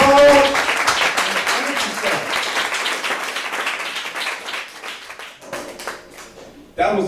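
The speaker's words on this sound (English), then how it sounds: "give him a round of applause" Audience applause rises into dense clapping, loud at first, then gradually thinning and fading before a short burst of voice at the end.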